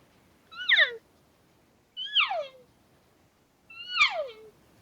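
Three drawn-out, high nasal mews, each sliding downward, spaced about a second and a half apart; a person imitating an elk cow call.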